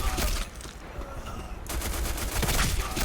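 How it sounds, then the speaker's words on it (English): Rapid automatic rifle fire from G36 and ARX rifles in the shooter game Black Squad, loud dense bursts that briefly pause midway, then resume hard. "the sound effects of the weapons were just A1, especially the sound of the G36 and the ARX"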